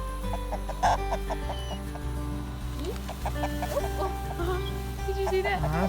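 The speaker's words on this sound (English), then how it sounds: "Where's the new rooster?" Chickens clucking and a rooster calling in short bursts close by, over a steady low hum, with people talking softly in the background.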